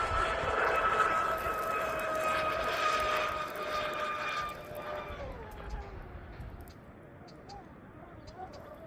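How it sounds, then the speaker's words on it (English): Twin-propeller RC catamaran boat with props losing bite, a whining whipping drone heard at a distance, loud at first and then fading as the boat moves away. "I can hear that whipping over there, like, woo, woo, the props losing bite."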